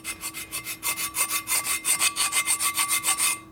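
Uneven cast cooling fins on a 1978 Harley shovelhead cylinder head being dressed down by hand, heard as a close, rhythmic series of about twenty rasping strokes that grow steadier and brighter as the metal flattens.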